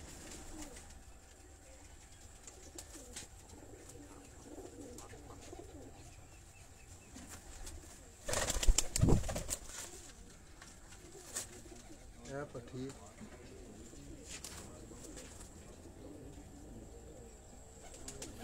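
Pigeons of a high-flying breeder strain coo quietly near and far, with a sudden loud burst of wing flapping midway, and someone talks faintly at times.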